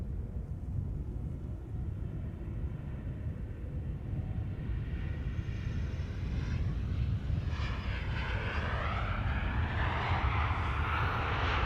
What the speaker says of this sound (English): KLM-E2 Embraer 195 having arrived from Milan, rolling out here just now.